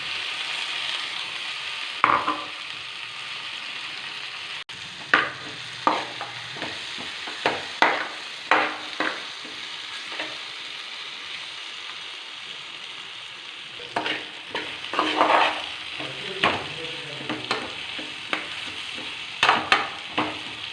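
Bitter gourd frying with onion and tomato in a pan, a steady close sizzle broken by repeated scraping and clattering strokes of a stirring spoon, with no talking.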